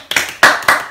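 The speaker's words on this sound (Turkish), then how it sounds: "Kendisini alkışlıyoruz." A few hands clapping to welcome a guest, sharp close claps in an uneven burst of about four strokes, loud and alone without talk.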